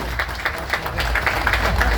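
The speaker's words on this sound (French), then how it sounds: "On applaudit monsieur le sous-préfet, monsieur Marin, sous-préfet de Saint-Laurent-du-Maroni." An audience at the Miss Guyane 2026 pageant claps for the sub-prefect of Saint-Laurent-du-Maroni. The applause is moderate and uneven, with individual claps standing out over a low murmur of voices.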